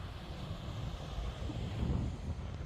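Strong wind buffeting the microphone at a seaside campsite beside a tent and a parked motorbike, a steady roaring rush with gusty swells and no talking.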